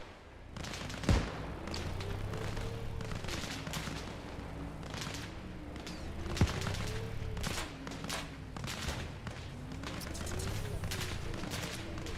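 Gunfire in the military shooter ArmA Reforger: rapid bursts and scattered single shots crack steadily throughout, with a couple of louder nearby reports standing out over a constant low rumble.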